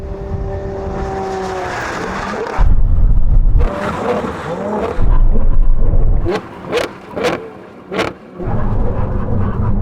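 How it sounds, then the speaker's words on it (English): A Ferrari brakes hard from 100 mph on a drag strip, a loud roaring engine and rushing noise dropping away, followed by short sharp squeals and bursts, close and intense. "now we have a brake test from 100 miles an hour"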